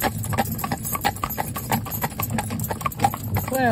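A part-bred Arab stallion trots, and its hooves clip-clop in a quick, steady rhythm close by. A voice speaks briefly at the end.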